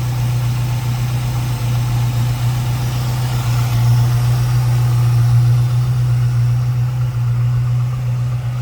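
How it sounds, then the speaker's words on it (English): An LS1 V8 in a 1935 Pontiac three-window coupe idles steadily, a loud, close, deep rumble with an even low throb that holds for the whole stretch. "Sounds like a Corvette."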